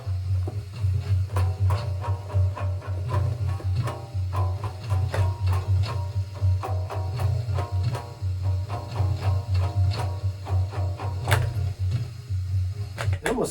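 A homemade rubber band guitar has all of its bands played at once, making a low, buzzy twang with rapid plucks and rattles that comes through continuously and up close.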